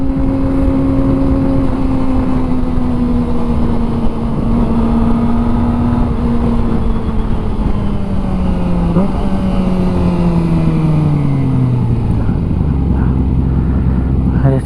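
A modified Kawasaki ZX25R motorcycle ridden on the road, its engine a loud, steady close drone with gradual pitch shifts as it shifts and slows, wind and road roar filling the background throughout.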